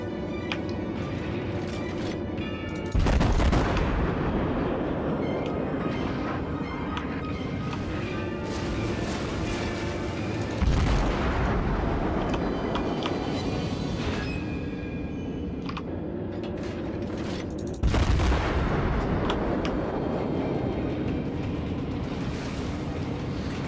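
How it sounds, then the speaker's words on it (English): Naval gunfire in the World of Warships video game, three loud booming salvos spaced several seconds apart, each followed by a rolling decay over a constant mechanical engine and water rumble. "Doing a good job of dodging these shots here."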